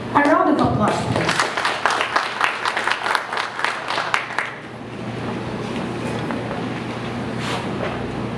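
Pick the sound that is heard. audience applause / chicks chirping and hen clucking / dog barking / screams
audience applause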